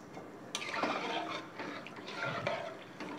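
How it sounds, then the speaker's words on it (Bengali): Semolina cooking in milk in a wok on raised heat, stirred steadily so it does not form lumps; soft wet scraping and sloshing with a few light knocks, close and continuous. "যতক্ষণ না ফুটে উঠবে ততক্ষণ আমার সুজিটা নাড়াতে হবে, নাহলে দলা পেকে যাবে।"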